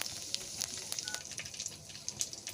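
Cumin seeds and dried red chillies crackle in hot oil in a kadai, a faint, steady sizzle with small pops scattered throughout.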